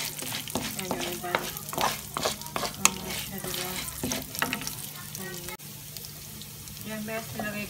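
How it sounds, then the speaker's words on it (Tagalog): Brown rice frying in olive oil while being stirred, giving a constant sizzle broken by repeated scraping and clinking of a utensil against the pan, with some faint background noise. "after ng olive oil, linagay ko yung brown rice. Ayan, i-mix lang natin ang lahat."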